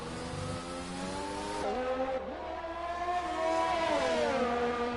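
Race car engines rev and shift in a racing video game, close and loud with rising and falling pitch as gears change, nearly uninterrupted for the whole stretch.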